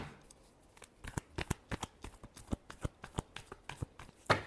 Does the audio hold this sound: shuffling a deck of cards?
yes